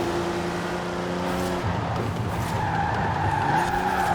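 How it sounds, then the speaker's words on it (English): A Toyota 2000GT skids while drifting in a Forza Horizon 4 race, a loud sustained tire squeal over a steady engine drone, rising and wavering for a few seconds with no talking. "Oh no, I'm drifting."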